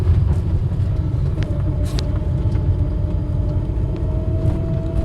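A 1975 Austin Allegro 1100 Deluxe interior rumbles along in third gear with a faint, steady high-pitched transmission whine riding above the engine drone.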